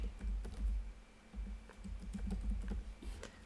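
Quiet, close keystrokes on a computer keyboard while working in mapping software, irregular clicks in short bursts with brief pauses between them.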